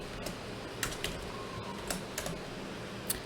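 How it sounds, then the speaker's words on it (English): Typing on a computer keyboard during Python coding, sounding as soft, sparse key clicks at an irregular pace, faint and close, with no talking over them. "So let me just type in out.txt."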